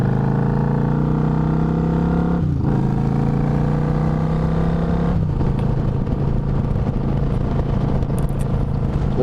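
A Suzuki Marauder VZ800 motorcycle engine while riding, holding a steady drone that drops abruptly twice as it downshifts, with wind rush throughout and no talking.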